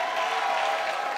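An audience claps through the opening ceremony of a digital and imaging art festival, a dense, even wash of applause that runs without a break.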